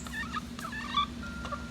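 Chickens in a coop area cluck and chatter in short, close bursts over a steady background hum, with no talk.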